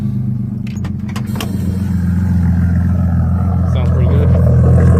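Nissan L28 inline-six engine in a high-horsepower budget build running at a steady idle after starting, a loud, continuous low rumble that grows slightly louder over the span, with a few brief metallic clinks near the start.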